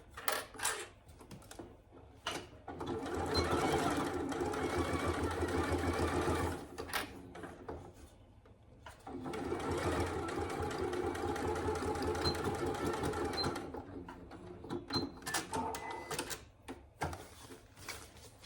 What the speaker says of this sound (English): And then you just bring it over to your machine. And we're just stitching at 1/4 inch seam allowance to stitch those short ends together.